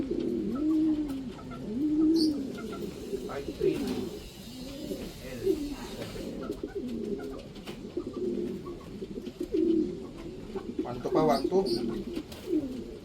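Racing pigeons coo repeatedly at close range during arrivals at a loft after a race from Gumaca, Quezon, with someone talking over the birds throughout.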